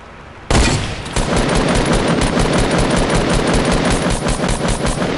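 Dense, loud gunfire in a shooter video game, a continuous rapid burst that starts abruptly and holds at full intensity, with no voices over it.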